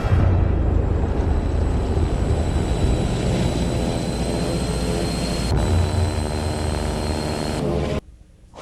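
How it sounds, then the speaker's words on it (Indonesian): A toy fighter jet gives off a steady electronic jet-engine roar with a thin whine on top, holding loud and unchanging for several seconds before cutting off abruptly. "Wih, pesawat tempur."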